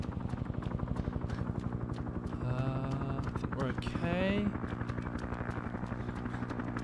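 Helicopter in the Arma 3 Vietnam game, its rotor beating in a fast, even chop that runs throughout, close and prominent, while voices talk over it in the middle.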